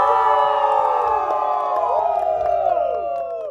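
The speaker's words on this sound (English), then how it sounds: "I want like a really loud cheer." Wedding guests let out a big cheer on cue, a loud burst of shouts and whoops from a close group, rising together and holding before tapering off.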